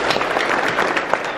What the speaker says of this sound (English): let's have a round of applause for Miss Maddie Wright for that beautiful rendition